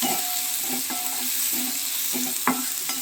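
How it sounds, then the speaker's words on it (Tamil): Pirandai (veldt grape) sizzles and fries in hot oil in a pan. A steady crackle runs underneath, and a spoon scrapes and stirs it in repeated strokes. No one speaks. "எண்ணெயிலேயே பரண்டை வதங்கணும்"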